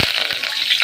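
Curry leaves sizzling in hot sesame oil for a fish curry, with a brief burst of loud, bright frying crackle right up close and no talk.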